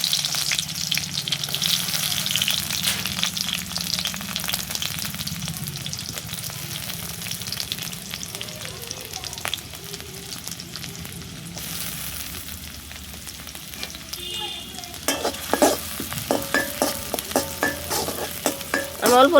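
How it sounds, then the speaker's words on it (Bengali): Onions and cumin fry in hot oil with a continuous sizzle, joined by stirring scrapes and a few sharp clatters toward the end. "আমি অল্প লাল করে ভেজে নিব"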